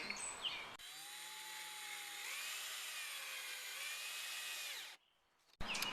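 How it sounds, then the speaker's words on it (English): A power drill drives screws into wooden boards for an outdoor ping pong table, a steady high whine running for about four seconds and dipping in pitch partway through, then cutting off. "we're going to put it in this pattern, and we're gonna screw them in."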